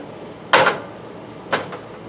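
Two brief clatters of dishes and ingredient containers shifted across a kitchen counter while preparing pasta stuffed peppers, a sharp knock then a lighter one a second later, close and fairly loud against a quiet room.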